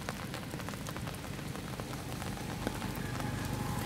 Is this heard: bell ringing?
no